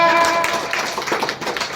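Applause at a school results-distribution and Class 8 farewell ceremony: a dense, steady patter of many hands clapping close by, loud and continuous at first and thinning slightly toward the end.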